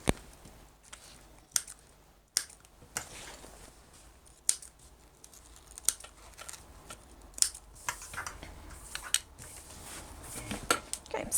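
Scissors snip into the corners of a thin black vinyl overlay on a bag panel, giving sharp, close clicks at irregular intervals over a quiet background, with no talking.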